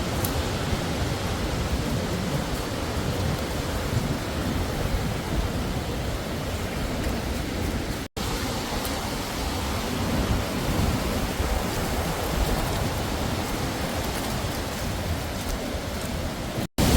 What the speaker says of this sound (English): I hope this wind's coming through because it's horrific.